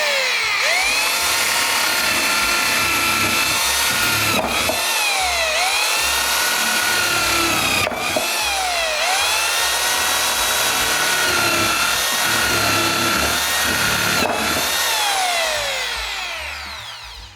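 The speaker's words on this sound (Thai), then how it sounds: "ทีนี้ก็ทดสอบกับสว่าน เป็นสว่านไฟฟ้า 220 โวลต์นะครับ" A 220-volt electric drill run from direct solar-panel power whines steadily and loudly, its pitch dipping and rising as it bites into material, with a few sharp clicks.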